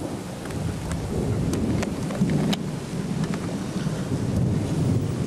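Steady heavy rain with low thunder from close lightning strikes rumbling throughout, a dense loud wash of noise with a few sharp crackles.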